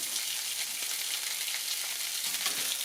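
Potato dumplings (Norwegian kompe) frying in butter in a pan make a steady, dense crackling sizzle throughout, close and even, with no voices.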